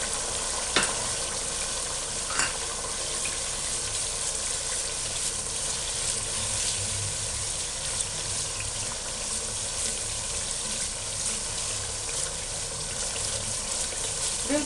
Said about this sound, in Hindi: अब इसमें पालक डालते हैं